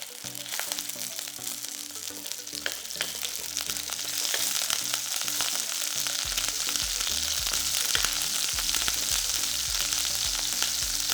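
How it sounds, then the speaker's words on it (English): Minced pork dropped into hot oil in a pot crackles into a loud, steady sizzle that grows fuller after a few seconds, with occasional stirring sounds and no talking. "when the oil is hot, add in your minced pork"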